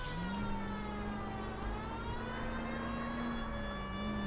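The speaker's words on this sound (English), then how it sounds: "Put on the siren." A police car siren from the video game LA Noire wails steadily and fairly close, holding a long rising and falling tone throughout with no talk over it.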